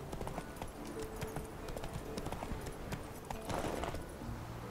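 Steady clip-clop of horse hooves at a trot in the video game The Witcher 3: Wild Hunt, rhythmic and fairly close, with a faint background ambience and no talking.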